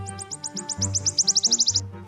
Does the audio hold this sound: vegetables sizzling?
no